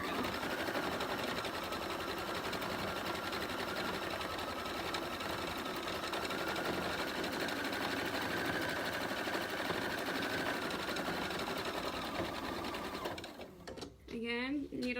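A home sewing machine stitches fabric for a pillow made from a placemat and sweatshirt, a steady motor hum running near and continuous for most of the span, then stopping as a voice talks at the end.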